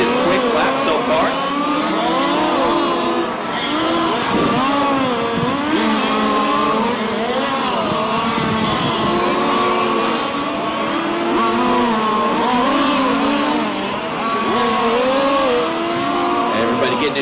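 Race cars lap a racetrack with whining, rising and falling engine notes that sweep continuously as the field streams past, loud and steady beneath an ongoing commentator's voice.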